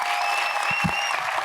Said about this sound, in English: I would really appreciate it if you would give these people a round of applause.